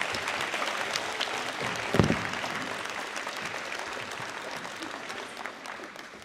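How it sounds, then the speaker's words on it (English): A live audience claps steadily at the Natural Strongman Worlds 2024 press conference, a dense, even round of applause with one sharp, louder clap near the start that tapers gradually toward the end. "Can we get a round of applause for 64 ladies?"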